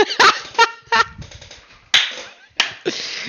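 Chickens in a video game squawk in a series of sharp, loud bursts, about half a dozen squawks and honk-like cries separated by short gaps.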